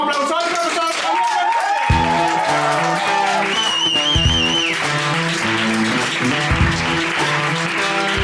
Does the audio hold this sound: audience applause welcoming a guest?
yes